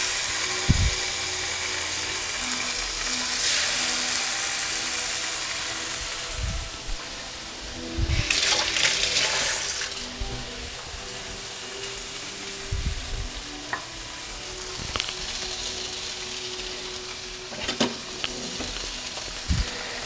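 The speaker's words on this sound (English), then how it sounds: "so we are going to fry the fish." Fish frying in a hot pan with saffron nearby, a steady close sizzle with crackling pops and occasional louder bursts of spattering and scraping as the pieces are moved.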